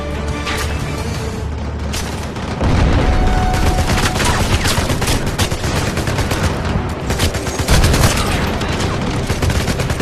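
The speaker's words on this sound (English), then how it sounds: "We've got RPGs incoming from that tower!" RPG explosions and gunfire in the video game 007 Legends, dense rattling bursts of automatic fire with heavy booming blasts, loud and close, the barrage intensifying partway through and again near the end.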